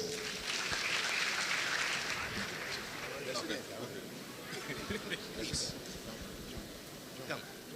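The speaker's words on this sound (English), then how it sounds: "A round of applause." Crowd applause at the grand finale of a senior high school renewable energy challenge, a steady wash of clapping that holds throughout and mixes with a few faint voices.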